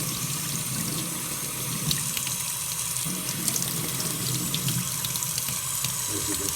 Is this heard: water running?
yes